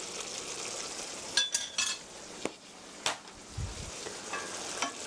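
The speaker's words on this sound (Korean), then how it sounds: "살짝 저어주시고요." Mapo tofu with a teaspoon of sesame oil being stirred in a hot pan, scattered utensil clinks and scrapes over a low sizzle, with a short rumble near the end.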